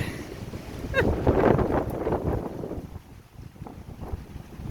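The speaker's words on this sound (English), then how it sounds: "It's too windy out here." Strong wind gusts buffet the microphone outdoors, a rough, rumbling roar that swells and eases without letup.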